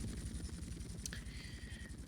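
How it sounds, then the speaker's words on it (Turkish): An attack helicopter arrives in GTA Vice City, its rotor chopping in a steady, rapid low throb under game sound effects, loud and continuous. "Şimdi şuradan savaş helikopteri gelecek."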